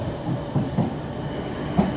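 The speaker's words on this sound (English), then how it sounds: "This is a district line train coming in here." London Underground District line train on the rails near Earlsfield, giving a low rolling rumble with a few soft rhythmic clunks from the wheels. The sound is moderately close and steady, and no voices are heard.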